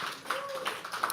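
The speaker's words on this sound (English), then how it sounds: "Start clapping. Everybody, together." Audience at a live poetry open mic at The Habitat, clapping together in a steady patter, moderately close, with a voice speaking over it.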